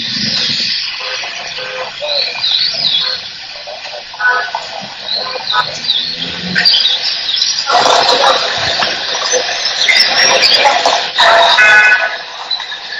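Generated soundscape of a city in the bush, mixing exotic animal calls like frogs and chirping birds with a dense bed of urban noise, steady and busy throughout with brief squealing calls.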